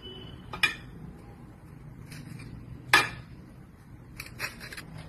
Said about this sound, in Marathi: आता आपल्याला थोडंसं बर्फ टाकायचं आहे